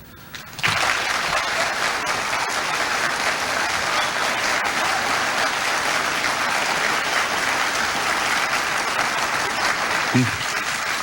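Sustained applause from a large audience at the 1984 vice presidential debate, steady and loud for several seconds without pause.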